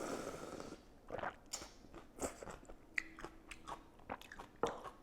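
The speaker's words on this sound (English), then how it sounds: "it's absolutely okay to slurp when you have Korean noodles" Close-up eating of Korean kimchi noodles with broth: a brief slurp, then repeated wet chewing and small bites in an uneven rhythm, with no talk.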